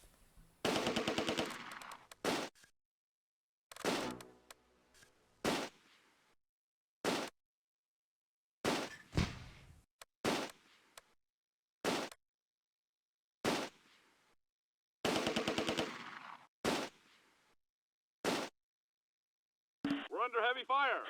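Machine-gun fire in the World War II strategy game Close Combat: A Bridge Too Far, Operation Market Garden, sounding as short loud bursts separated by silences, with game voice lines between the volleys.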